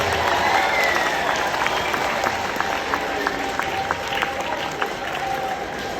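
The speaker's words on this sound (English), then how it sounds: "Thank you so much for the warm applause" Warm audience applause follows a keynote speech, continuous close clapping filling the whole stretch with a faint crowd murmur beneath.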